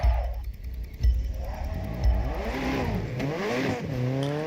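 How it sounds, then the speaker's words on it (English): Car engine revving hard while drifting, with repeated rising and falling revs and a brief clatter near the start, loud and close with no talking. "the car engine noises are quite loud."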